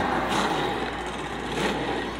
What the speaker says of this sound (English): The trucks roar to life.